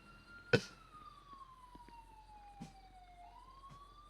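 A police car siren wails in a video game, a single long descending tone sliding down and then rising again, heard alone and fairly clear after a sharp thump at the start.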